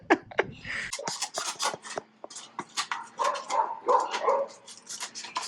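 Several dogs bark and yip in quick, excited bursts nearby, overlapping one another with little pause.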